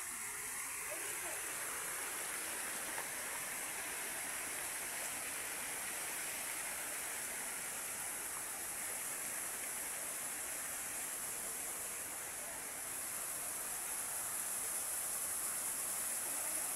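Kalibong Falls in San Nicolas, Pangasinan, pours as a steady, broad roar of rushing water that fills the scene evenly from start to finish, close and unbroken with no pauses.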